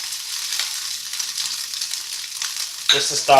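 A steak sizzles steadily in a hot, lightly oiled pan that is already smoking, giving a close, continuous frying hiss, with a sharper crackle and spatter near the end.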